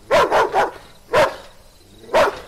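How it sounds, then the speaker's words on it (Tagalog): A dog barks loudly and close in sharp bursts, three quick barks followed by two single barks spaced about a second apart, with quiet gaps between. "Kinakahulan niya ng todo ng malakas"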